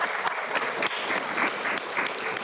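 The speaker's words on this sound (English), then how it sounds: "Can we give Dr. Dawn Marcel another round of applause?" An audience at a coronavirus information session applauds a panel speaker, a steady burst of many hands clapping, moderately loud and close, with no talk over it.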